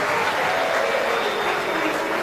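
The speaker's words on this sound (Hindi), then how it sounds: "एक बार सभी के लिए जोरदार ताली बजाकर साधुवाद वंदन।" An audience at a Shiv Mahapuran katha in Sehore, Madhya Pradesh applauds loudly, producing a dense, even wash of clapping that holds steady from start to finish.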